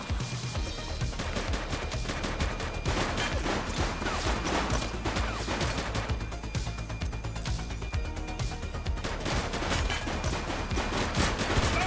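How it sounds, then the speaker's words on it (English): A steady barrage of shots in the police game The Precinct, close and continuous for the whole stretch, rapid bursts packed tightly over a dense game backdrop with no talk. "Shots fired!"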